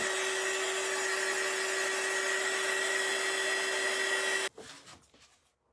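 A hair dryer blows in a steady, even whoosh with a constant whine while drying a painted crab stencil, then switches off abruptly, leaving faint handling sounds.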